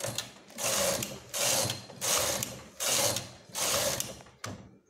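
A knitting machine makes five rhythmic carriage passes knitting rows of a woollen bra, each a loud close mechanical clatter with short pauses in between.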